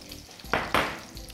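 Portobello mushrooms sizzle in a hot pan beside caramelizing onions. A steady frying hiss runs throughout, broken by two louder bursts as the pieces are stirred or dropped in.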